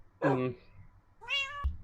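A cat in the video game Minecraft meows twice, close and clear. A short high meow comes first, then a longer, rising one ends with a soft thump, over a low background hum.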